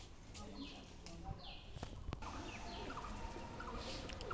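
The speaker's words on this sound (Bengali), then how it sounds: "এখানে আমাদের একটি ছাদের দৃশ্য, ছাদের উপরে কবুতরের খামার।" Pigeons at a rooftop loft make faint, distant calls and scattered fluttering over a quiet outdoor background.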